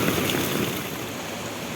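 Floodwater rushes through a village stream in a broad, continuous roaring wash, loud and close, with no voices over it.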